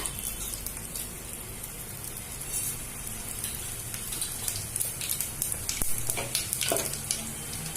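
Cumin seeds sizzle in hot oil, a steady bright crackle with scattered pops, close and loud with no talking.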